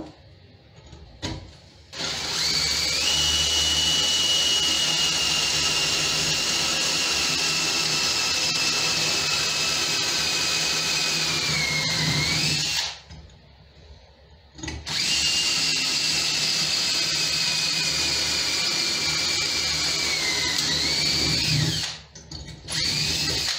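Power drill boring holes in metal fittings held in a vise, a loud steady whine in two long runs separated by a brief pause, starting and stopping abruptly with no talking.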